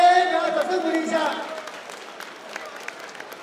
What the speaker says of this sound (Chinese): 给他掌声鼓励一下。